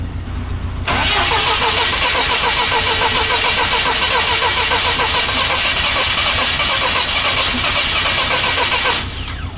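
A cold UMZ engine in a GAZelle van cranks and catches, then runs steadily and loudly close by before cutting off near the end, with no talk over it.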